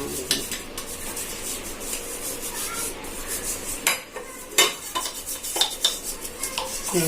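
Brisk scrubbing of brass pooja items with a brush, with light clinks and scrapes of the brass pieces shifting in between, close by and steady.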